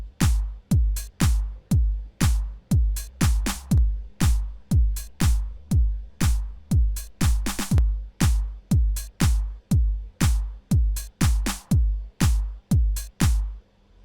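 A 90s house drum track, compressed with a DBX 160 stereo compressor, pounds out a steady four-on-the-floor kick with claps and hats, punchy and even in loudness, looping alone without any talking.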